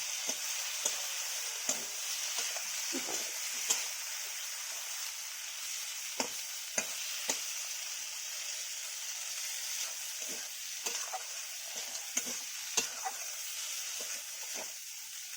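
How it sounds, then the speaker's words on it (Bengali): Okra korma with a spoonful of mustard paste is stirred in a pan over a soft, steady sizzle, with a utensil scraping and knocking in irregular strokes close by. "নাড়াচাড়া করে নিলাম হালকাভাবে, সেটা মিশে গেল।"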